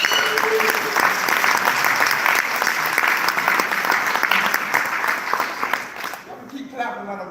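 An audience gives sustained, dense applause for a saxophonist who teaches at Virginia State University. The clapping is steady and fairly loud for most of the clip, then thins out near the end as talking begins.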